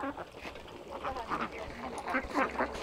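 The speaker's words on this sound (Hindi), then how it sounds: "बतख लोग को भी दे दिए हैं खाना" Ducks quack repeatedly while being fed, a busy cluster of nasal calls close by, with people talking over them.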